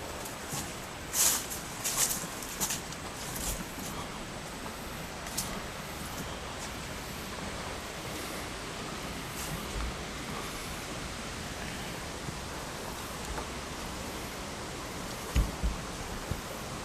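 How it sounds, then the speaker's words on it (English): Steady, soft rushing of river water below a bridge at White River County Park fills the background throughout, with occasional nearby rustles and footsteps. "I hope you can hear the water running"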